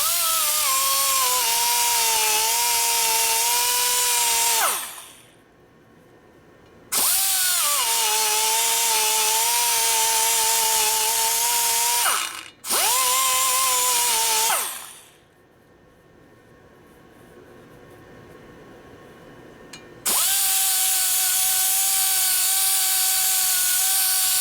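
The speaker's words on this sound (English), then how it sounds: "Use a slightly more aggressive cutter." A power tool with a cutter porting new Harley-Davidson 110ci Screamin' Eagle touring cylinder heads whines loudly and steadily in three long bursts, each spinning up and winding down, separated by quieter gaps.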